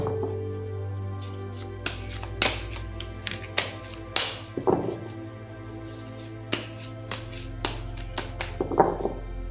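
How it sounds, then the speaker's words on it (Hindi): Tarot cards are handled and shuffled close by, giving a series of light irregular taps and flicks spread across the clip over a low steady hum. "तो चलिए पहले ज़रा कार्ड्स को शफल कर लेते हैं।"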